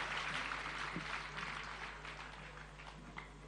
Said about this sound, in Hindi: एक बार जोरदार तालियां आप अपने समाज के लिए।